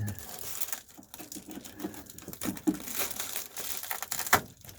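Reflectix foil insulation is laid down, tucked and straightened during HVAC work, making close crinkly rustling and crunching in irregular bursts while someone talks intermittently.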